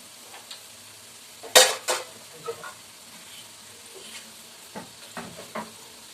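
Hotel-style urad dal vada frying in hot oil while being flipped to cook both sides, with a soft steady sizzle broken by a few sharp clinks and stirring knocks, the loudest near the start.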